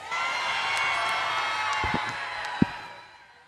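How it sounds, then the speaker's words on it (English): Arena crowd at a FIRST robotics state championship finals cheering for the Red Alliance, a sustained wash of whoops and shouts with a few claps and thumps, fading gradually toward the end. "Make some noise if you're here for the Red Alliance."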